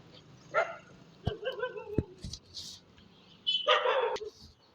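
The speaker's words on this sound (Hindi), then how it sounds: "यहाँ कुछ कुत्ते अपनी वफादारी साबित करने भौंक भी रहे हैं मुझे देख करके" Street dogs in a residential lane of Porbandar bark in scattered sharp yips and woofs, a few moderately close calls with short gaps, over faint street ambience.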